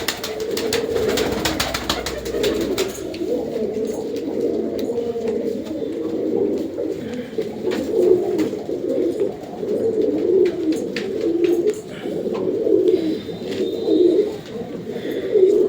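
Several pigeons coo close by in low, throaty, overlapping rolls that continue with only brief pauses, with some faint clicking and rustling in between.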